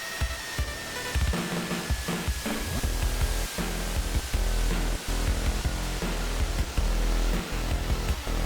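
Dense, harsh static hiss from the horror video game World of Horror, loud and continuous with crackling breaks and a faint whining tone running through it.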